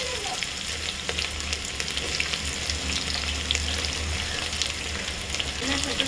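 Sliced onions hit hot oil in a pan already holding cloves and curry leaves for egg biryani, giving a steady, close, crackling sizzle with light stirring that stays even throughout.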